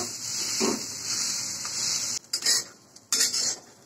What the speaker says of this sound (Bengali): আমি এভাবে একটি ম্যাশারের সাহায্যে ম্যাশ করে নেব